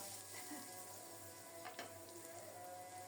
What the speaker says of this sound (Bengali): আলুগুলো কিছুক্ষণ ভেজে নিয়ে এবার দেব পটলগুলো